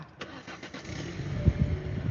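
A car engine cranks and catches, then settles into a low, rumbling idle close by, with a few clunks from the vehicle just before it fires.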